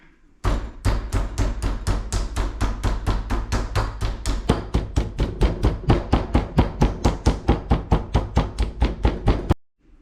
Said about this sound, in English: I'm going to take a mallet and pound them to tenderize them